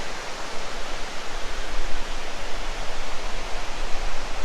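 High Falls waterfall pouring into a catch pool and river, a loud, dense, continuous roar of rushing water with no voices.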